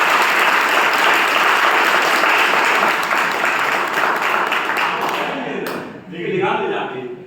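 A crowd applauds steadily at a car achievers event, dense and loud for several seconds, then the clapping fades out.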